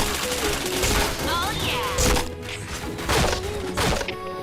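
Video game gunfire during headshot kills, a dense rapid barrage of shots and impacts with thuds, loud and continuous, with a voice talking over it.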